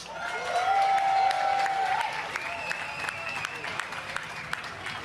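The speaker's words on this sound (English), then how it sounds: "How about a big round of applause for our Stampede royalty and all of the volunteers who make this the greatest outdoor show on earth?" A crowd at the Calgary Stampede gives loud, sustained applause that slowly tapers off, with cheers and whistles over the clapping.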